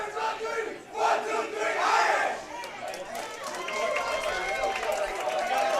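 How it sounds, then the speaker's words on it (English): A high school bowling team from Cathedral shouts a team cheer at a state final, a loud group of voices yelling together in a reverberant hall, swelling and carrying on with crowd noise. "That would have been Cathedral in the background there with the team cheer"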